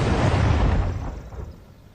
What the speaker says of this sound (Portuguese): Neste momento, o duelo de artilharia atinge a sua maior intensidade.